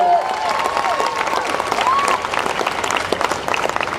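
Audience applause at the Wyoming State Fair Miss Rodeo Wyoming pageant, a steady dense wash of clapping from a large crowd lasting throughout, with a brief whistle partway through.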